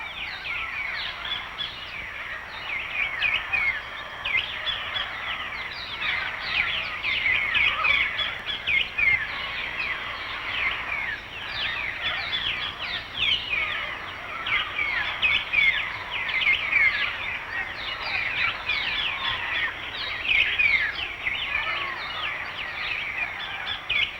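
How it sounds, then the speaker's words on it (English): Many parrots squawk and call at once at a waterhole in a continuous, noisy chorus, with harsh screeches rising and falling throughout. "The first parrots come to drink at the waterhole."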